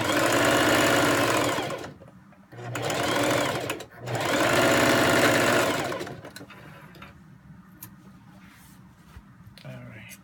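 Sewing machine stitching a pant hem facing, whirring in three close bursts before stopping, then quiet handling noises follow.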